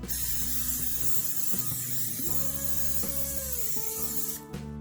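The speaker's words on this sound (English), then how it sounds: "spray a little bit of oil on top." A steady pressurized hiss of oil sprayed from a can onto chicken wings on a tray runs for several seconds under a faint electric hum, cutting off near the end.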